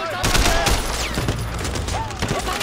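Rapid gunfire in Sleeping Dogs crackles in loud, dense bursts as enemies are mowed down, with a voice talking over the shooting.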